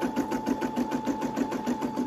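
A Brother LB5000S embroidery machine stitches a hoodie with a fast, even, close mechanical whir and rapid needle chatter over a steady tone.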